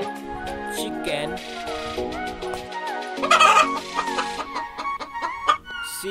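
A battery-operated toy chicken clucks in a repetitive electronic pattern with a crowing call mixed in, close and steady, sounding over a whirring mechanical hum.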